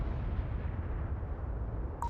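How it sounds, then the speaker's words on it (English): Heavy artillery in the war video game Broken Arrow booms in a dense, continuous rumble, with a brief electronic beep at the end. "They opened fire with heavy artillery on the fuel depots."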